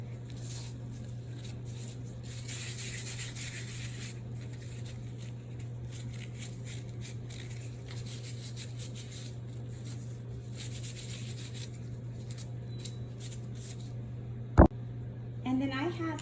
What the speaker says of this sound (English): I used a lens wipe to clean off the debris